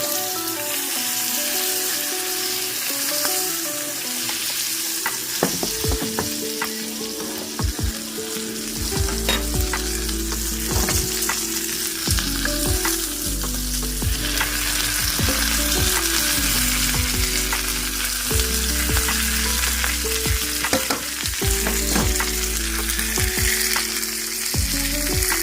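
Chicken sizzling in melted butter in a hot pan, a constant loud frying hiss with crackles and occasional scraping stir sounds, continuing throughout without speech.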